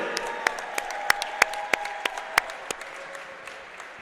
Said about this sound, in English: please join us one more round of applause for our men's basketball seniors, DJ Cox and Justin Burden